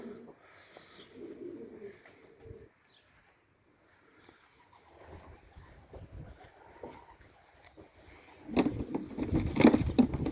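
Soft cooing and rustling of Hans Hirn racing pigeons at close range, interrupted by a brief quiet gap, then louder fluttering and handling noises near the end.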